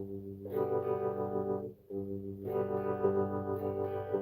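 Electric guitar with effects plays a steady alternating bass-and-strum rhythm, pausing briefly midway before resuming, clear and close.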